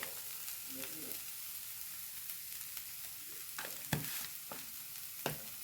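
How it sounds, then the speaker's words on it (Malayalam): Spices and turmeric frying in a pan, a faint steady sizzle with scattered scrapes and clacks of a spoon stirring, a few sharper knocks standing out near the end. "ഇത്രയും സാധനം ഇതിലിട്ടിട്ട് ഒന്ന് ഇളക്കി കൊടുക്കുക കേട്ടോ"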